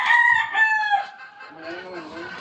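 Rooster crowing with chickens clucking around it, a loud near crow in the first second followed by softer, lower fowl calls.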